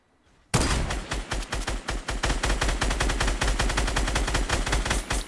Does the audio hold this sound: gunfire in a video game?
yes